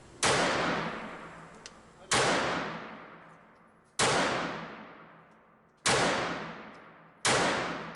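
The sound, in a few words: Kel-Tec P-3AT .380 ACP semi-automatic pistol shots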